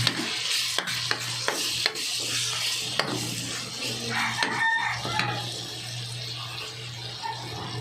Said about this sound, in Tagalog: Gigisa natin guys yung ating gulay ng munggo.